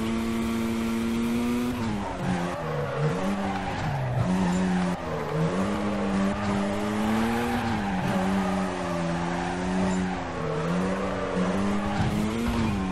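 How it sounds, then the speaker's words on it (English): A Mazda RX-8 drifts in Need for Speed: Carbon with tires squealing continuously while the engine revs rise and drop repeatedly through frequent gear changes. "I've never heard someone change gears as much while drifting."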